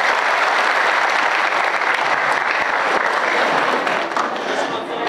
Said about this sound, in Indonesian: Oke, kasih tepuk tangan dong